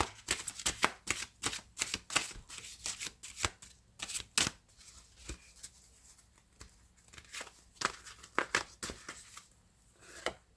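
Tarot cards being shuffled and drawn, a run of crisp riffling bursts and flicks with short pauses between them, close and fairly quiet with no talking.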